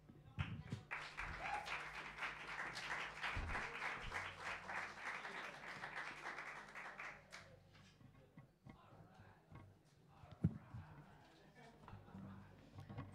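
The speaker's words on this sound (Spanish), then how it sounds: "y pedir un fuerte aplauso" An audience at a BajoBar show applauds a singer invited on stage. A dense burst of clapping lasts several seconds, then fades into quieter room sound with scattered voices.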